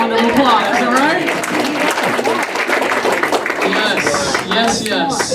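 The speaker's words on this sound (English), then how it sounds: "can we give these folks a round of applause" Applause at an evening parent meeting, steady clapping from a crowd mixed with chatter and voices throughout.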